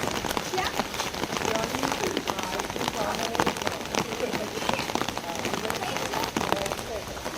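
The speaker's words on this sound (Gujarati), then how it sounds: "થોડો ઘણો વરસાદ શરૂ છે અત્યારે" Light rain falls at night in Bangalore, a steady hiss of drops pattering on surfaces nearby, with faint muffled voices under it.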